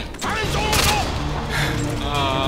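Rapid gunfire from shooting at the ground in Modern Warfare 2 rattles on continuously at close range, while a voice talks over the shots.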